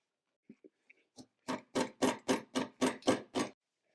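Close chewing of charcoal-grilled Jamaican jerk chicken, with a few faint bites followed by about eight loud, evenly spaced crunchy chews that then stop.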